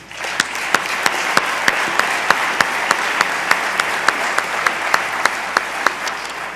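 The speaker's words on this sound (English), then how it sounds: "Could we please have an applause for her?" Sustained applause from a crowd at a conference plenary session, dense steady clapping with a few sharper claps standing out, continuing for several seconds.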